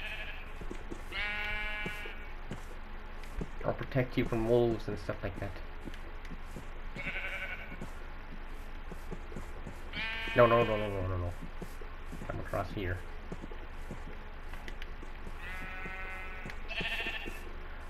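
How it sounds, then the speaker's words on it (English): A pink sheep in a video game, likely Minecraft, bleats several times in short wavering calls spread through the passage, while a person talks over and between the bleats. "I did not expect to find a pink sheep"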